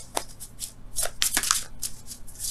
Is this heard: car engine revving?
no